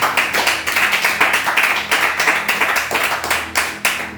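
A church congregation at a Sunday worship service claps in a fast, steady rhythm, loud and close, with no break for several seconds.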